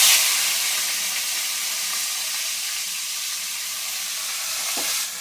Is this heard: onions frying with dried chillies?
yes